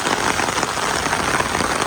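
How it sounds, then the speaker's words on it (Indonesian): Heavy rain pouring onto a tent at a campsite on a cliffside, a dense, steady hiss of drops drumming on the fabric, close and continuous with no voices. "Ini hujan nggak mau berhenti total sama sekali."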